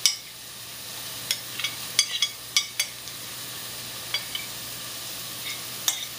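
Onions sizzling in a pot for chicken soup as a flavor base is stirred in, with soft steady frying hiss and scattered clicks and scrapes of a spoon against the pan.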